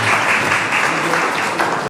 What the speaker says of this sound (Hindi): तो भरपूर इनका तालियां होनी चाहिए